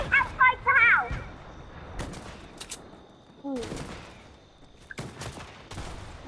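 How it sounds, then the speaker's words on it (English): Rapid bursts of gunfire from the video game Fortnite crackle in short clusters, interleaved with a player talking excitedly over them. "Someone shooting me?"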